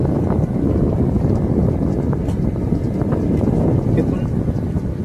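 A boat rocks on the Bidyadhari river during a spring tide near the Sundarbans mangroves, heard as loud, rumbling wind buffeting and water wash close to the microphone, continuous throughout.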